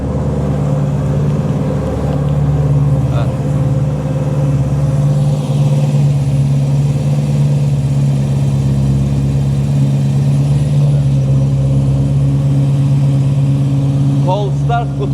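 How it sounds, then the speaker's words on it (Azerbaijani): The BMW M3 E92 V8 idles steadily after a cold start with a deep, even exhaust drone, heard up close for the whole stretch while someone talks over it. "Cold start qutarsın, yüngül qaz versəm də yenə egzostun səsi imkan verməyəcək."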